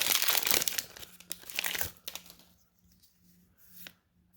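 A Magic: The Gathering booster pack from Time Spiral Remastered being torn open, with loud crinkling and tearing of the foil wrapper up close for two seconds, then a few softer rustles and faint handling.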